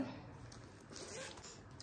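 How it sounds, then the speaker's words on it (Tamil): A zipper closes on a compartment of a shopping bag, a single faint, short zip pulled close by against a quiet room background. "இந்த ஜிப்பை நம்ம க்ளோஸ் பண்ணிட்டோன்னா ஃப்ரண்ட்ல இன்னொரு ஜிப்பருமே இருக்குது"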